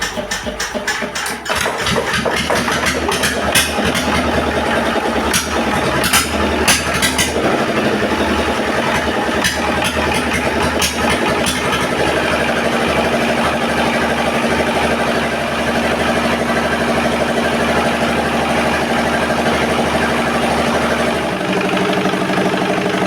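A single-cylinder R 180 diesel engine runs steadily after starting, a loud continuous chugging idle with a knocking rhythm that holds throughout, with no voices.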